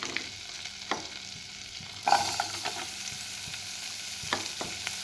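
Garlic and ginger fry lightly in a pan for a mushroom soup, giving a soft, steady sizzle with a few faint scrapes and stirring clicks. No one speaks.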